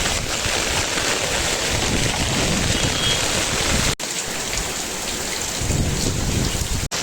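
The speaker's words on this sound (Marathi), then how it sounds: "खूप पाऊस आहे आज" Heavy monsoon rain pours down in a dense, loud, continuous roar of drops striking surfaces, with a rumbling thunder undertone, steady throughout and without talk.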